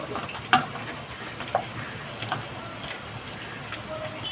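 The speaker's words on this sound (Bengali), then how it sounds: "এখানে আলু ভাজা হচ্ছে দেখো" Potatoes sizzling in oil, a moderate steady crackle punctuated by a few sharp clinks and scrapes of a spatula.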